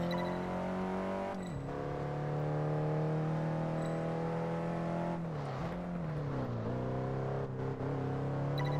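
A McLaren Artura in Test Drive Unlimited 2 drones with a steady, smooth engine note that dips and climbs with a few gear changes, alone and fairly quiet.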